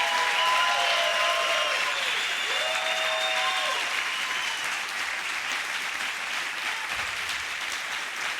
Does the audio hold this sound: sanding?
no